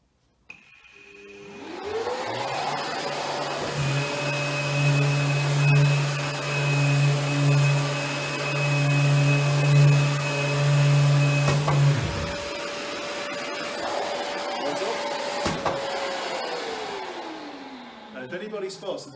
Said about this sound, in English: And we're going to make some noise. And we're going to sand.